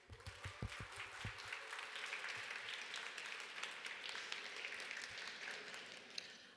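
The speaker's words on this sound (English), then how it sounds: "please welcome with a warm round of applause" Audience at a conference talk applauding to welcome a speaker on stage, steady continuous clapping filling the room at moderate distance, with a few sharper claps early on.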